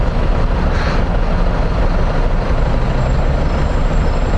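A Honda Titan 150 motorcycle fitted with a GS310 exhaust, revving with a dense, rough, continuous engine roar that stays loud and close throughout.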